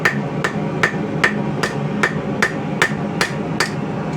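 Hammer blows flattening a hot knife steel blank at the forge, about ten sharp, evenly spaced ringing strikes, close and loud with no talk.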